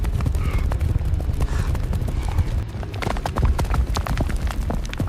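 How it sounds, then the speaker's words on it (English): A herd of about a thousand buffalo charging, their heavy hooves pounding in a dense, continuous drumming of thuds over a low rumble. "The ground shakes under their heavy, pounding hooves."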